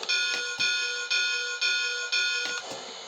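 A Lionel LionChief toy steam locomotive from the Union Pacific Steamin' Flyer freight set plays its electronic bell effect, a bright metallic clang struck in a steady rhythm about every half second, loud and close with no talking.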